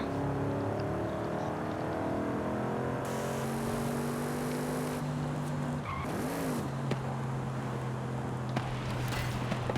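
Audi RS6 in the racing game Forza Horizon 5, its engine droning steadily with rising and falling revs, a brief tire squeal and gear shifts, loud and continuous with no talking.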